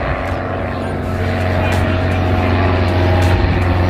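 A propeller airplane roars loudly and steadily during its takeoff run down the runway at Sorocaba airport, the engine drone swelling slightly as it climbs away.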